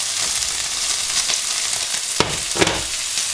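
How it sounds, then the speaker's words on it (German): Bacon sizzles and crackles steadily in a hot frying pan, a dense continuous hiss with two sharper pops near the end, close and fairly loud with no talking. "So, jetzt kommt der Speck rein."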